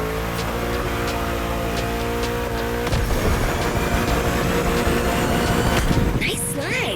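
A car slides through a drift in The Crew Motorfest, its engine droning loud and steady for several seconds, with a rougher, scrubbing tire-and-engine roar taking over midway.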